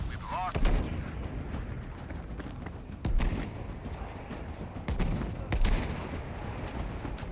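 In a Battlefield V Conquest match, an artillery cannon booms several times at spaced intervals. The heavy blasts sit over a constant rumbling battlefield din while a player talks.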